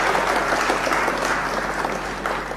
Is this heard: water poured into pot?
no